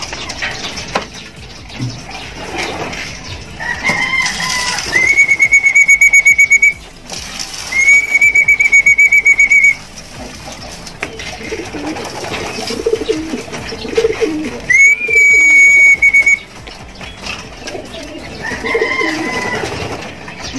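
Pigeons coo and murmur nearby, with sharp whistles sounding in a few sustained bursts over the soft bird noise.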